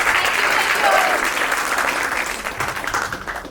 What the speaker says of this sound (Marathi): एकदा तिच्यासाठी जोरदार टाळ्या